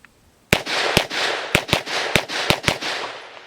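Close, loud gunshots from a Grand Power Stribog 9mm pistol fitted with an SP Tactical arm brace: eight sharp cracks in an uneven semi-auto rhythm, each followed by a short ringing tail, with no talking.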